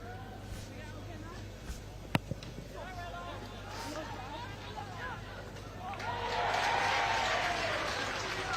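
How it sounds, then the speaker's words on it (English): Crowd at a women's under-21 rugby match between Scotland and England applauding the water carrier, distant clapping that swells toward the end beneath a commentator's voice. "And the water carrier getting a round of applause there."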